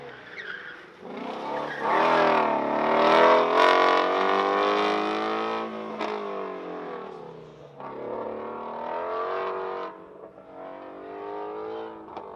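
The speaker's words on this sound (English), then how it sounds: "The flat plane crank gives it a unique sound, and the 350Rs come from the factory without a resonator." A 2019 Ford Mustang Shelby GT350R with a naturally aspirated flat-plane-crank V8, no resonator and adjustable exhaust, rises in a loud, high-pitched wail, eases off, then climbs again, with a squealing edge like tires on an autocross course.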